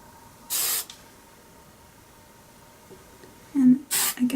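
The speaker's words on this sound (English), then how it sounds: "and then I'm going to spray on top." Hairspray hisses onto a pin curl hairstyle in two bursts, one short spray near the start and a longer double spray at the end, close and fairly loud with quiet pauses between.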